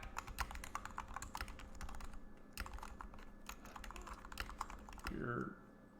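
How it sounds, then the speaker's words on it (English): Rapid clicking keystrokes on a computer keyboard while someone types a chat message, close and quiet, with uneven bursts and faint background talk. "I'm gonna type it into the chat."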